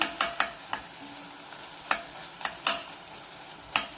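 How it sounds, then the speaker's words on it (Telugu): Tomatoes frying in a pan for a ridge gourd and prawn curry, with a steady soft sizzle broken by several sharp scraping clicks of a spoon stirring, close and moderately loud, no talking. "చూసారా బాగా ఫ్రై అయింది ఇలా మెత్తగా అవుతుంది టమాటా ఫ్రై అయిపోయింది"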